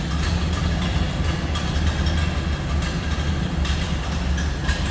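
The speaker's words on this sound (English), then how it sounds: "Slip around to the back so you can hear it. Obviously the Model A's with their distinct sound." A 1930 Ford Model A five-window coupe idles in neutral, heard from behind the car: a steady low rumbling drone with even, continuous loudness and no talk.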